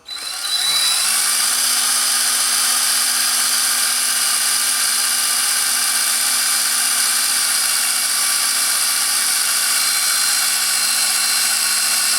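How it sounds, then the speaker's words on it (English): A power drill whines at a steady high pitch after a brief spin-up, running continuously and loudly without pause, drilling out a broken exhaust manifold bolt on a Chevrolet Silverado 2500HD. "I'm going to drill this out."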